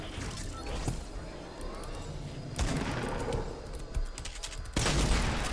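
Heavy sniper rifle shots in the Fortnite Battle Royale video game: two booming, broadband reports a couple of seconds apart, heard over continuous busy game ambience with no one talking.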